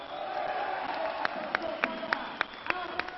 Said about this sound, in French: Et la foule applaudit